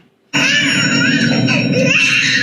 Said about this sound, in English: But she's hearing the baby crying and the phone ringing.